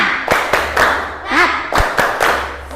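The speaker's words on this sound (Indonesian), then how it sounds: "mari kita tepuk semangat" A group claps a rhythmic spirit clap in a classroom-style session, sharp claps in short bursts with pauses between, close and loud, with faint voices around.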